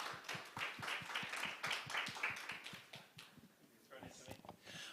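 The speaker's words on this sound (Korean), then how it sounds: "여러분 박수로 환영해 주시기 바랍니다" A conference audience welcoming a panel to the stage, sparse, fairly quiet clapping with distinct separate claps that thin out toward the end, while a voice talks over it.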